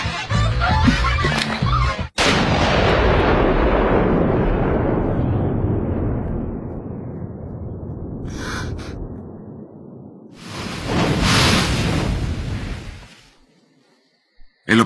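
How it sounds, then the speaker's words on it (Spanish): A loud blast cuts in, followed by a long decaying boom; later a brief burst and another heavy noisy report, with a quiet gap at the end. Anime gunshots from Hellsing. "El disparo de Arucard silenció el objetivo A."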